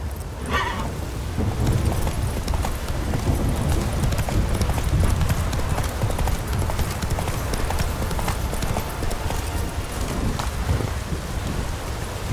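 Roach, a horse in The Witcher 3, gallops at a steady fast pace, hooves drumming under heavy rain with a faint rumble of thunder, loud and continuous throughout with no talking.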